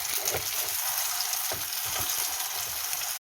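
Vital wheat gluten vegan meat sizzling steadily in a hot pan, a continuous crackling hiss with faint stirring bumps, cutting off abruptly at the end.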